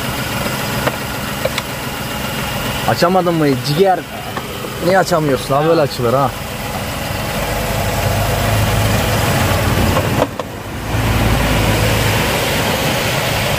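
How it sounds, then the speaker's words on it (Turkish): A small two-door car's engine idles steadily throughout, running smoothly with a low continuous hum, while people talk over it. "Arabamızın motoru. Saat gibi çalışıyor valla."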